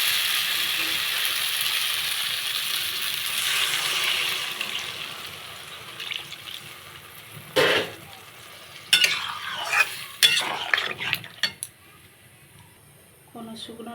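Vegetables and spices sizzle in a pan as water goes in, with a broad hiss that gradually subsides into quieter bubbling, interrupted by several sharp clinks and scrapes of a utensil against the pan near the end.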